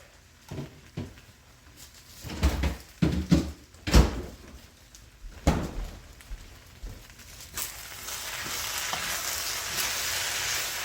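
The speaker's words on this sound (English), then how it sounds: "you can hear the sizzle of the pan on the bottom, which is the rice getting crispy" Sizzling and crackling of kimchi fried rice crisping on the bottom of a pan, with a few sharp knocks and scrapes early on, then a steady hissing fry building toward the end.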